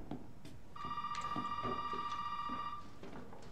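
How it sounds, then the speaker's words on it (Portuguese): A telephone rings in Resident Evil 7, a single steady electronic ring tone lasting about two seconds over quiet background sounds and faint footsteps. "Caramba, que raiva, que tem um desse telefone tocando."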